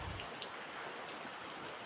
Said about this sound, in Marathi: तर बाहेर पाऊस पण होतो